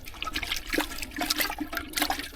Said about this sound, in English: Another quick rinse.